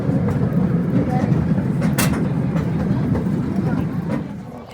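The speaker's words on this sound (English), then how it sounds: "Please remain seated until the train comes to a complete stop." A zoo's Zoo Express ride train in South Bend, Indiana, rumbles along close and loud as a steady low drone with light rattling, easing slightly toward the end while people talk over it.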